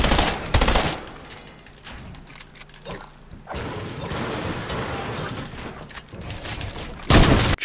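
Bursts of burst-fire SMG shots in Fortnite, loud clustered rattles near the start and end with quieter mechanical clatter and scattered shots between.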